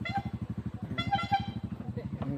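A broken car horn toots in a rapid, buzzing pulse in a parking area on a Taal–Batangas road loop, moderately loud and continuous, with people talking over it.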